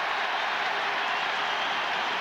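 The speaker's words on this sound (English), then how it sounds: "Just listen to the cheer." A large stadium crowd at the 2002 All Ireland Hurling Final roars in a continuous, dense wash of cheering and applause as a Kilkenny player is substituted, with no clear voices above it.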